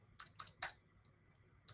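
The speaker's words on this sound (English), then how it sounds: "we're using the R key on your keyboard to quickly shuffle things" Keys on a computer keyboard clack three times in quick succession and then once more after a pause, sharp and close, each press a brief click with no voices.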